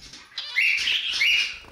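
Budgerigars squabble in a bird room, a burst of shrill, close chirps and squawks that rises and holds for over a second amid faint rustling.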